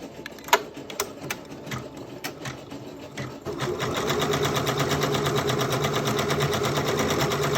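An MB4S embroidery machine stitches a t-shirt held in an 8x9 hoop, first making irregular clicks and taps, then settling midway into a loud, fast, steady mechanical stitching rhythm close by.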